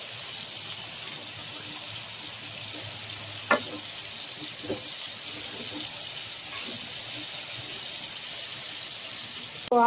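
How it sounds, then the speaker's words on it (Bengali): Fish frying in a pan gives a steady, close hissing sizzle throughout, broken by a few sharp clicks and scrapes of stirring. "তো আমার মাছ ভাজা শেষ"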